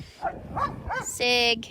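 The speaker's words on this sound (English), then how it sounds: "Excuse the barking in the background." Dogs bark in the background outdoors, a few short yips and barks followed by a sustained whine, under a spoken word.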